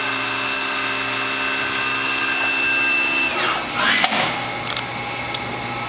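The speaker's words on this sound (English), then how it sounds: "And at 4500 RPM." A Tsugami BS20B Mark II CNC Swiss lathe spindle runs at 4500 RPM, holding a steady high mechanical whine that then sweeps down in pitch over a constant machine hum.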